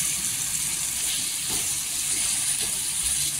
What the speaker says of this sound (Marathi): इथे पाणी टाकायचं, पाणी नेहमी कोमट करायचं.